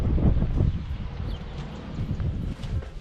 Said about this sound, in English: The good news is it's still windy.